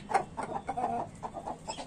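A hen clucks in short, soft, repeated calls close by, heard alone with no talk and a brief pause between bursts, in a backyard poultry setting.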